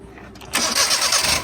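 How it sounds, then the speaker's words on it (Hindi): A motor cranks briefly, then catches and roars into a loud, steady rumble close by. "आवाज आ गई, स्टार्ट कीजिए गाड़ी"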